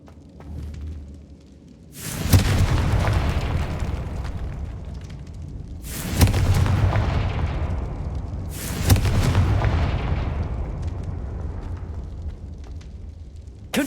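Confringo fire spell blasts in Hogwarts Legacy, three loud booming explosions each with a sharp crack followed by a long rumbling decay, spaced a few seconds apart.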